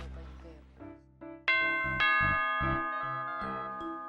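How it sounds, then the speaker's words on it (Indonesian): A doorbell chimes indoors as a series of bright, ringing ding-dong tones, several distinct strikes with sustained decaying harmonics, loud and clear after a short stretch of speech at the start. "Bel bunyi tuh!"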